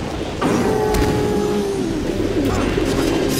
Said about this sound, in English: oh, there's birds! They're pecking me.